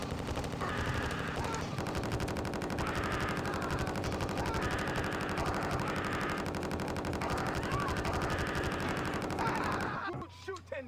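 Rapid automatic gunfire in a video game, dense machine-gun bursts repeating steadily for about ten seconds, loud and close, with voices talking underneath, then stopping abruptly.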